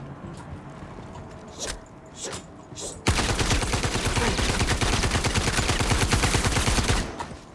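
Gunfire in the space game Star Citizen Alpha 3.11: a few scattered shots, then a loud, sustained burst of rapid automatic fire that runs for several seconds before cutting off.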